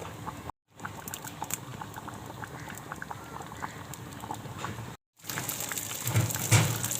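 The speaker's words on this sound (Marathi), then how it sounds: "याला चांगला कढ येतोय." Bangda mackerel fish curry with five or six kokum pieces bubbling in a pot, a steady soft patter of boiling with small pops, close and even, briefly cut out twice.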